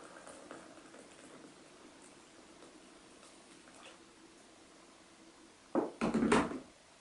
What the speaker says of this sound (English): I'm going to fill them right the way to the top to get the maximum amount of brew